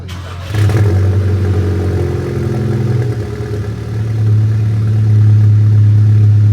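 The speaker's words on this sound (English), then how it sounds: "let's get a cold start on the GTI" A Volkswagen GTI cold-starts nearby: a brief crank at half a second catches into a loud, rumbling high idle that holds, then swells louder again toward the end.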